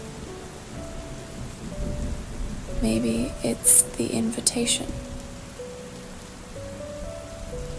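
Steady rain falls with a low rumble of thunder, a continuous wash of noise beneath a soft spoken voice.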